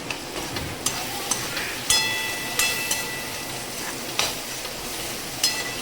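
Spiced oil tempering (phodni) with turmeric for vegetable upma sizzles steadily in a pan, crackling with sharp pops and stirring clatters over about six seconds, close and fairly loud, no voices.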